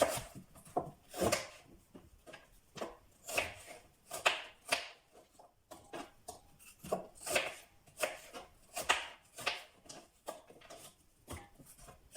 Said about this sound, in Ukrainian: Чистимо два середніх яблука та нарізаємо невеличкими кусочками.